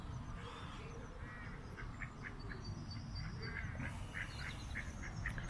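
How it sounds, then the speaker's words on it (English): A group of ducks with little ducklings quacks near a castle moat. Repeated soft quacks come in short bursts over steady outdoor background noise. "Look at your little ducklings."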